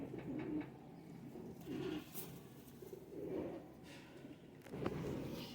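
A pigeon gives four soft, low, rounded coos at a steady pace, fairly faint against quiet background noise, recorded among caged pigeons.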